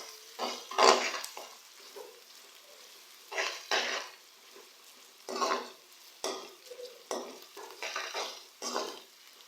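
Onions frying in a pan toward golden brown for a dhaba-style chana dal, with a soft continuous sizzle broken by repeated bursts of stirring and utensil scraping against the pan.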